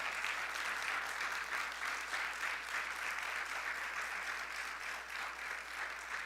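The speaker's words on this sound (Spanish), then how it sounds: "¿Puedes darle un aplauso de alabanza al Señor?" A church congregation claps in praise to the Lord, a continuous, evenly sustained patter of many hands, moderately distant and fairly quiet, with no voices over it.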